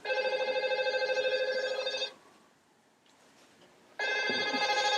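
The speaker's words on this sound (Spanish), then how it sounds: "¿Quiere coger el teléfono?" A phone rings with a steady electronic trill for about two seconds, pauses, then starts ringing again, loud and close.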